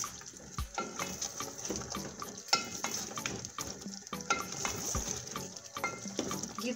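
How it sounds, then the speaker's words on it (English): Vegetable manchurian balls being stirred into sauce in a pan, with repeated close clinks and scrapes over a soft, bubbling simmer. "Stir in well."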